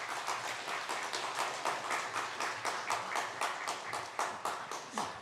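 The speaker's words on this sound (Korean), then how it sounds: "박수로 부탁드리겠습니다" Church congregation clapping steadily after a new-member course certificate presentation, an even, fairly quiet round of applause with no talk over it.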